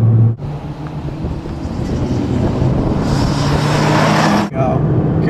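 Nissan car driven hard on the Homestead-Miami Speedway road course during a Nismo track day, a loud sustained engine roar rising in pitch, heard from inside, with a brief drop at a gear change near the end.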